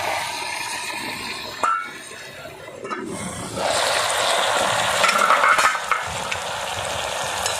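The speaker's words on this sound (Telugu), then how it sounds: "ఇదంతా మంచిగా కలుపుకొని మంచిగా వేగనియాలి" White galijeru leaves stirred and fried in a pan for a chutney: a steady close sizzle with scraping stirs, swelling louder midway as the leaves are tossed, with no talking.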